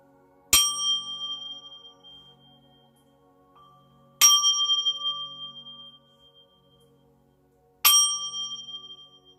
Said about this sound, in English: And I'm going to ring this bell.